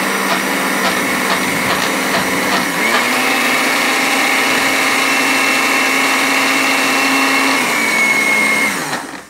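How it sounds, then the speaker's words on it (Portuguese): A blender grinds granulated sugar into powdered sugar, a loud, steady motor whine that holds at an even pitch for several seconds and then winds down at the end. "vamos bater no liquidificador, vai fazer aquele pozinho, aquela nuvenzinha"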